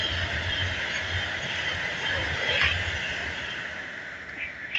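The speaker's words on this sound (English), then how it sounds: "we have another 390 from Manchester to London Euston" A Class 390 Pendolino electric train running from Manchester to London Euston passes at Bletchley on the West Coast Main Line, a steady rushing roar with a high whine held at even loudness throughout, with no voices.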